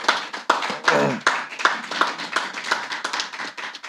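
Audience clapping at an annual general meeting, a run of close, loud claps in an uneven rhythm that carries on steadily for several seconds, with no talk over it.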